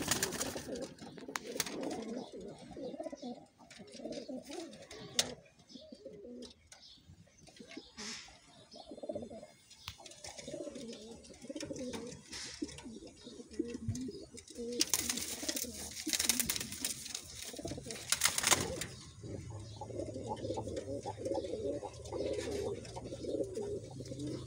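Pigeons coo repeatedly in a low, steady murmur throughout, with scattered bird calls and rustling bursts around them and no talk.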